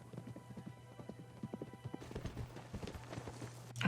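Horses gallop in a race scene from the Western drama 1883, a steady run of hoofbeats at close range over a low sustained tone, growing louder toward the end.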